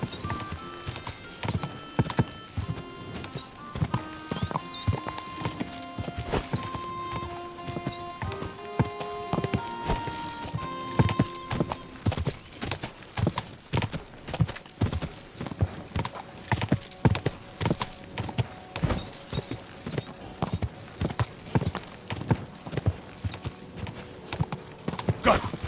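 Horse hooves clip-clopping in a fast galloping rhythm in the medieval video game Kingdom Come: Deliverance II, steady repeated beats with game music and an occasional neigh, continuing for the whole stretch.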